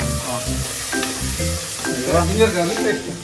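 Vegetables with potato, tomato and coriander sizzle loudly in a hot pan while being stirred to golden brown, steady frying hiss with repeated scraping strokes up close.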